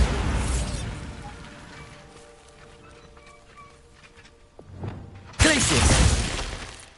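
A Bombarda blasting spell in the Hogwarts Legacy video game goes off as a sudden loud broadband burst near the end, after a quieter stretch with a smaller thump just before it, fading out over about a second.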